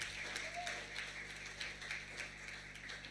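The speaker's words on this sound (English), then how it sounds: "can we begin by clapping for ourselves?" A school end-of-term assembly crowd claps for itself, a quiet, distant, steady patter of many hands with a faint hum underneath.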